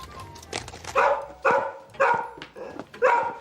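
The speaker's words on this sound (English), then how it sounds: "he's barking" A dog barks repeatedly, five or six sharp, loud barks at a steady pace, close by.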